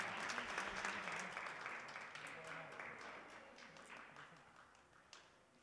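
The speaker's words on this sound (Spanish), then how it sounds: "Les reiteramos entonces un fuerte aplauso a nuestras alumnas" Applause from an audience at a school awards ceremony honouring students, a steady wash of clapping that is fairly faint and distant and gradually fades, with some voices mixed in.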